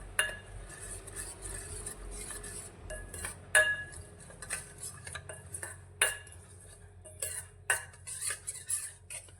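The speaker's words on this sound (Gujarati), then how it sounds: "હવે બધા જ મસાલામાં તેલને સારી રીતે મિક્સ કરી લઈશું." A spoon mixes oil into spices in a bowl for carrot pickle, with irregular clinks and scrapes against the bowl over a soft low hum, close and without speech.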